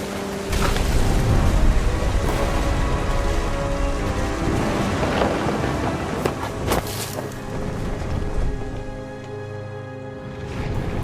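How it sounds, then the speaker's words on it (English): Thunderstorm in the video game What Remains of Edith Finch: steady heavy rain and rumbling thunder throughout, with a sharp nearby crack around the middle, loud and close with no voices. "The thunder sounded much too close and full of angry power"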